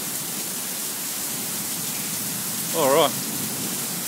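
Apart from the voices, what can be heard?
summer thunderstorm rain in Brisbane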